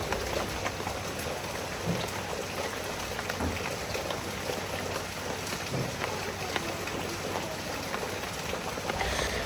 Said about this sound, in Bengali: বৃষ্টি তো পড়ছেই পড়ছে মুসুল ধারা বৃষ্টি